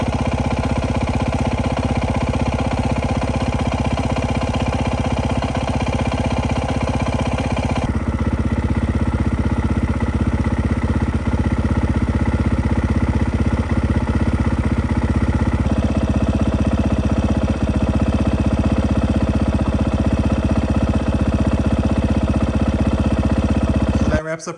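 A Beta dirt bike engine drones loudly and continuously while riding, with shifts in pitch and load as the throttle changes, recorded close up with steady wind and mechanical noise throughout.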